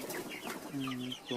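Broiler chickens in a flock of 200 clucking and calling nearby, a few short vocalizations with a brief murmur of voices underneath.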